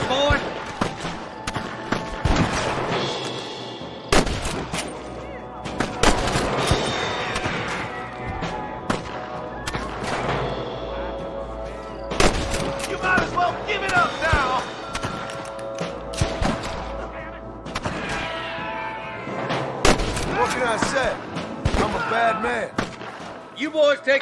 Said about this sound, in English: This is gonna be one nasty shootout.